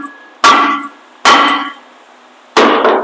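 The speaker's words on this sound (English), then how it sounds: "You need a big hammer, some type of like a Tor hammer" Three loud, ringing metal strikes from a big hammer pounding a rear brake rotor on a Ram 2500 heavy-duty turbo diesel truck, each blow followed by a short decaying clang, spaced about a second apart.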